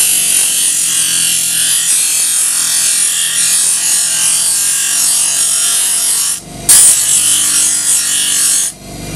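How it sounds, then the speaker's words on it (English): A regular grinding wheel cuts through plastic, giving a loud continuous rasping whine with two brief breaks near the end as the piece is lifted away. "I'm just using a regular grinding wheel. Even a buffing wheel will cut through this plastic though, so grinding wheel is a little faster."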